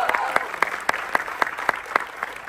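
Loud audience applause at a live Lavani dance show by Gautami Patil, a dense crowd roar cut through by sharp, evenly spaced claps, like a rhythmic clap-along, sustained throughout.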